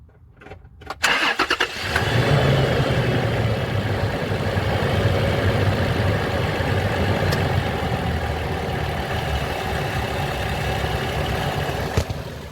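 A 2019 Toyota 4Runner engine cranks briefly and catches after a second of quiet, then settles into a loud, steady idle that continues for over ten seconds, with no talking.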